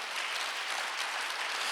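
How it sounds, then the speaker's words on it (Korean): Steady applause from a church congregation during a Sunday worship sermon, a dense even patter of many hands clapping at once for the whole stretch. "박수 한번 주세요."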